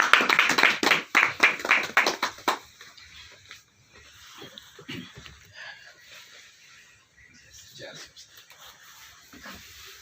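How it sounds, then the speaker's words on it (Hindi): A short burst of loud, rhythmic hand clapping from a small audience at an RCM gathering welcomes Ganesh Khadgi, then fades within a few seconds into faint scattered sounds. "आपकी जोरदार तालियों के बीच में।"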